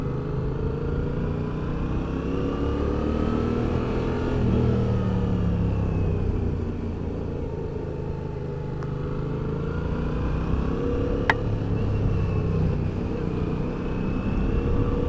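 A 2020 Yamaha MT-07 motorcycle engine drones steadily on a test ride, a loud continuous rumble with slight rises and dips in pitch as the throttle shifts, wind noise mixed in.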